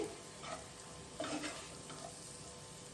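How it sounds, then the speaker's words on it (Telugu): Wheat flour frying in butter for a white sauce, a soft steady sizzle with a few brief stirring scrapes, close and fairly quiet, no voices. "వీట్ ఫ్లోర్ కూడా ఇది బాగా ఫ్రై చేసుకోవాలి ఈ బటర్లోనే"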